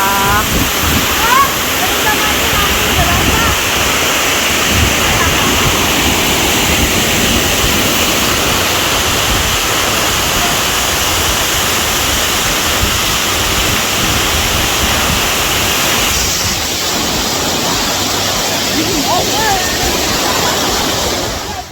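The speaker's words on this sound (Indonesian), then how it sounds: "air terjun ini udah kayak milik kita sendiri loh" A waterfall at a forest curug near a glamping site roars steadily and loudly. The broad, even rush of falling water continues without a break for over twenty seconds.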